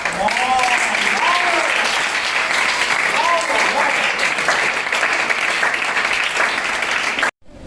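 Loud, sustained applause from an audience at a boys-versus-girls education event, with whoops and a voice over the dense clapping, cutting off abruptly at the end.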